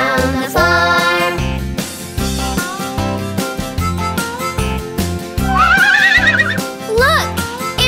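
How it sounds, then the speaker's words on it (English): A cartoon horse whinnies in high, wavering cries over a bouncy children's song with steady music throughout. "The pretty old horse says nay, nay, nay."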